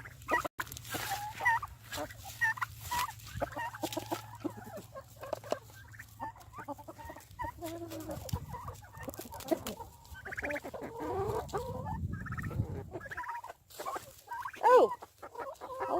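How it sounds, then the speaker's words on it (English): Backyard chickens in a coop, soft clucking and fowl calls scattered across the whole stretch, close by, with a person talking over them and some shuffling movement. "Hello, my fluffy little chickens."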